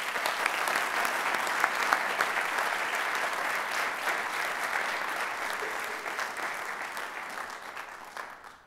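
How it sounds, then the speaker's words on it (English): Audience at an evening honors ceremony recognizing top students and their teachers gives a round of applause. The clapping is dense and sustained, a steady wash from many hands at moderate distance that fades slightly at the end. "Can we have another round of applause for all the honorees this evening?"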